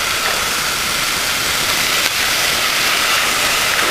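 Shallots and onions sizzle in hot oil in a pan, a steady, loud broadband frying hiss that holds evenly throughout with no talking.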